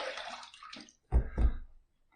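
A QShave short-handle razor rinsed under running water, a short splash first and then two louder close gushes and gurgles a moment apart, ending quickly with no talking.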